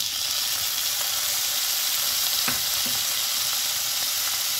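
Onion fries in a pan for kottu parotta, a dense, even sizzle heard close and steady, with a couple of soft stirring scrapes partway through.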